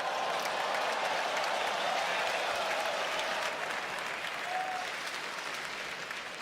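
The crowd at a sumo bout applauds in a broad, sustained wave that slowly fades, with faint voices mixed into the clapping.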